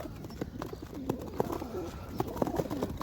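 Racing pigeons coo and rustle inside a crate, soft repeated throaty coos and scuffling close by, with occasional wing flutters and light knocks as the birds jostle.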